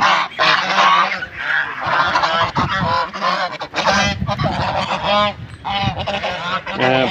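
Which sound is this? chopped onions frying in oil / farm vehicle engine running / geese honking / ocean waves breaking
geese honking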